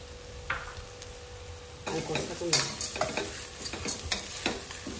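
Toor dal frying in a pan over a medium flame, a soft sizzle that grows louder partway through, with repeated scrapes and knocks from stirring close by.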